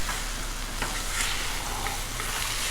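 Ribeye steaks sizzling loudly on a Blackstone flat-top griddle, a dense continuous hiss and crackle up close with a few sharper pops and no talking.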